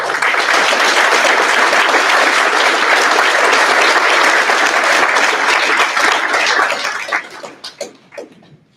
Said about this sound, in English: So please join me in offering an applause and well wishes for Azasia.